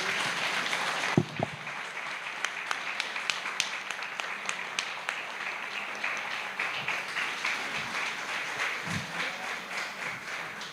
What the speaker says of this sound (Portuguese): eu convido a todos e a todos para ter palmas pela apresentação que a Ana...